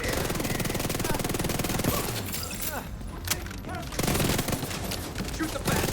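Dense automatic gunfire and bursts of shots in the Division 2 video game, loud and nearly continuous with a brief lull midway, mixed with a voice talking over it.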